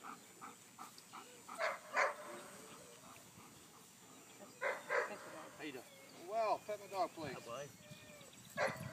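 A Giant Schnauzer protection dog gives scattered barks and high whining whimpers, fairly faint and intermittent, while a person talks in the background.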